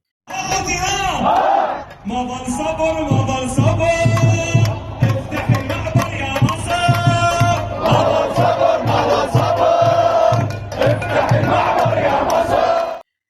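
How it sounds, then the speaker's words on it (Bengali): Protesters in a Baghdad street chant slogans against Egypt, a loud crowd shouting in steady rhythmic call-and-response bursts that carry on without a break. "মানুষ রাস্তায় নেমে মিশরের বিরুদ্ধে স্লোগান দিচ্ছে"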